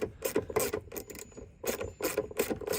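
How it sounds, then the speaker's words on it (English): A 3/8 inch socket on a ratchet undoes a bolt into a retainer nut while a spotlight is removed from a Dodge Charger Pursuit, giving repeated close rasping clicks in short bursts with brief pauses between them. "You're going to undo that bolt right there, which goes into this retainer nut"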